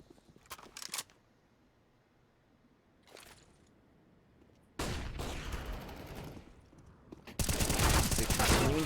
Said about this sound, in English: On the push upper mid, does hit that initial headshot onto Lunatic.